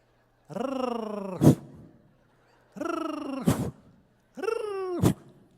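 A man imitates a cat in three evenly spaced vocal bursts, each a throaty, purring meow that ends in a sharp breathy puff, close and alone against silence.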